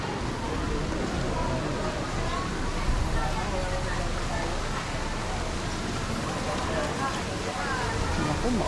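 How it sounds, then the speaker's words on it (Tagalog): Steady rain falls outdoors near a stone church, a continuous even hiss of drops with faint voices and a low background bustle beneath it. "Ulan lang talaga guys."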